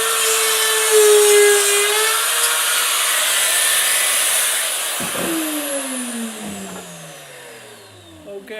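A router fitted with a keyhole bit cuts a slot in a wooden entryway shelf, giving a loud, steady high-pitched whine that winds down with a falling pitch near the end.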